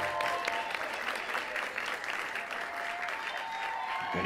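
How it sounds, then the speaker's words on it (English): A crowd cheers and applauds in the space-agency strategy game Mars Horizon, a steady dense wash of clapping and cheering filling the whole stretch at even loudness with no talk over it. "people cheer. Much rejoicing."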